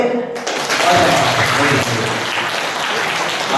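Audience applause at a twentieth-anniversary performance by a Cantonese opera society in Philadelphia, a dense and steady round of clapping that starts abruptly and carries on throughout, with voices faintly mixed in.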